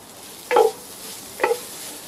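Seared ingredients for an Asian beef-fillet noodle pan go into a hot Dutch oven, giving two brief, close bursts of sizzling about a second apart over a faint steady hiss. No one speaks.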